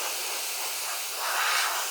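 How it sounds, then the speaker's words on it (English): A short, continuous hiss of compressed air blasting sawdust out of laser-engraved letters, close and steady, swelling slightly louder toward the end. "Compressed air is also a really good thing to have on hand if you get any sawdust stuck in your engravings. You can just use the compressed air."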